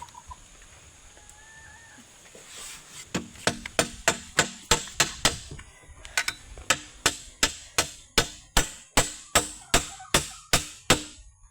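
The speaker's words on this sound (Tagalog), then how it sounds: "Ngayon ipapako ko na siya, itong pabalagbag." A hammer drives nails into a wooden crossbar while a chicken coop is being built, about twenty sharp, evenly spaced blows ringing out close by after a quiet start with faint birdsong.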